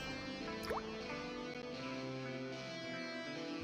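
A single dripping sound effect plinks once with a quick rising tone in an animated Gacha scene, followed by a quiet, steady background of soft musical tones.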